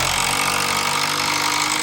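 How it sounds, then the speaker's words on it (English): A power drill whines steadily at close range while driving screws into wood for a sliding barn door, a continuous motorized buzz with no pauses. "now I'm going to take some screws from the outside and drill them in"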